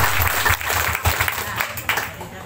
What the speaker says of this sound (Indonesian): Tepuk tangan buat Pak Dudi.